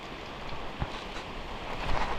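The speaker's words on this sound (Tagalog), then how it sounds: "Yan, lumakas na po ang ulan no." Heavy typhoon rain pours down in a steady, loud, broadband wash, with wind gusts and occasional drop impacts throughout and no voices.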